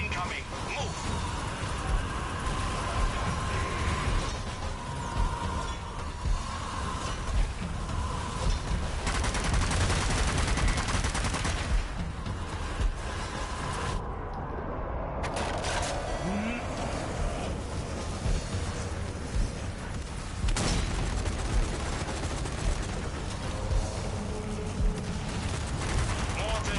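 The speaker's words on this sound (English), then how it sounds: "Mortars incoming. Move." Incoming mortar fire in the zombie shooter Zombie Army 4, sustained dense gunfire and blasts over a constant rumble, with voices calling out across the battle.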